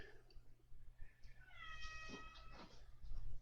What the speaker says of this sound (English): I can hear a crying cat in the background because he's got stuck somewhere